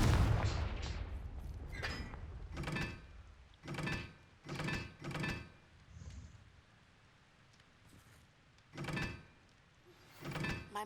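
A fiery Confringo blast spell in the Hogwarts Legacy video game goes off in a series of sharp, crackling explosive bursts, spaced irregularly and fairly soft.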